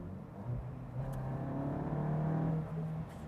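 A VW Golf GTI Edition 50 engine in Comfort mode: a low, smooth hum that swells and eases in gentle revs, fairly quiet and close, with no talking.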